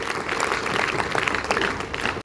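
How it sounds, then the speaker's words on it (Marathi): An audience at a school speech event for Gopinath Munde's birth anniversary applauds for Tanvi, a steady, full-room burst of clapping that holds at an even level before cutting off abruptly at the end. "सर्वांनी पुन्हा एकदा तन्वीसाठी टाळ्या वाजवायच्या"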